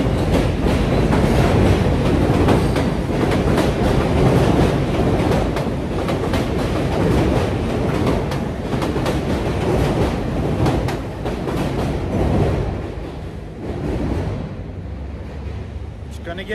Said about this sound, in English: We're right over here by the elevated train tracks.